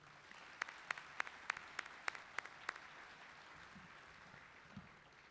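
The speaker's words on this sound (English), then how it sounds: "Please join me in a round of applause for our 2021 retirees." Sparse, faint handclaps ring out in a quick uneven burst from a commencement audience honoring 2021 retirees, then fade into quiet room tone with a couple of low thumps.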